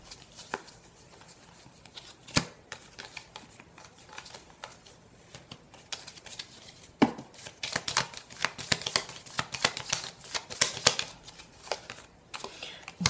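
Oracle cards being shuffled by hand in a quiet room, soft repeated riffling and flicking that grows busier and denser toward the end, with occasional sharper snaps.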